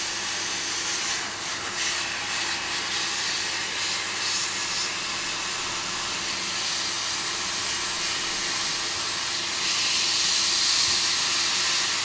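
Hot air rework station blowing onto an Xbox One S board to heat and desolder the HDMI port, a steady loud airflow hiss and whoosh that runs unbroken and grows slightly stronger near the end.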